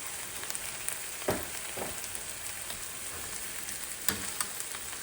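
Thawed green peas and carrots tumble into rice frying in a pan, giving a steady crackling sizzle with a couple of soft thuds as the vegetables drop in and get stirred.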